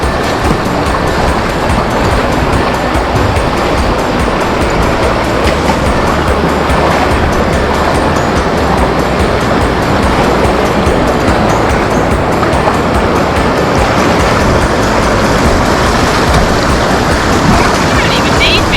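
River water rushing steadily while a bike is pushed across the river, a loud continuous wash of flowing water throughout with no clear voices.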